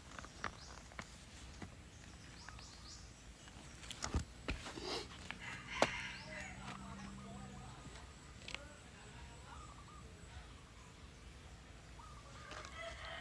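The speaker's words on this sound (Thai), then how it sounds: "มีทั้งเสียง ไก่ป่า นะครับ" A red junglefowl crows in a forest, faint and distant calls against quiet ambience, with a few soft rustles and knocks nearby.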